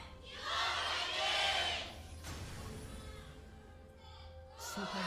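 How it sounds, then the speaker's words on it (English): Fans cheer at a League of Legends esports match between SKT and KOO in the LCK Summer 2015 season, a swelling crowd roar that fades into a lower arena murmur. "Fans cheering on their teams."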